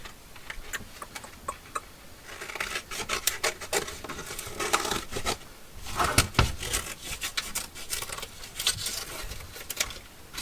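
Stitched journal material being cut by hand, a run of crisp ticking snips and rubbing rasps that come in uneven bursts, fairly close and with no voices.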